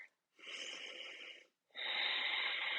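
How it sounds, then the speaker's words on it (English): Two long, soft breaths during a yoga plank flow, a drawn-out exhale followed by a steadier inhale, close and quiet with no talking. "Take a breath here."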